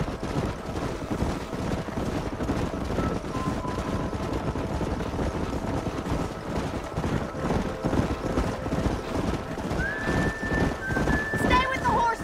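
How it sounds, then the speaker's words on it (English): Galloping horses in the Western video game Red Dead Redemption, a rapid drumming of hooves on dirt countryside trail, loud and continuous, with a whinny near the end and game voices talking over it. "We're just riding through the countryside."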